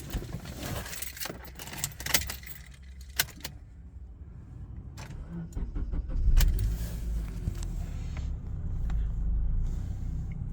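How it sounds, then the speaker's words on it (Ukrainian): Keys jangle and click for several seconds, then a 2003 Honda Accord engine cranks and catches, settling into a steady idle. "Автомобіль без проблем запускається."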